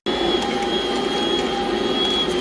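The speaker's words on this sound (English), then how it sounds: "I love my mixer that has the center post because I want my dough to be pulling away not only from the sides of the bowl" A stand mixer with a center post kneads bread dough for Halloween boo rolls, producing a steady, fairly loud motor whine with a constant hum and no pauses over a couple of seconds.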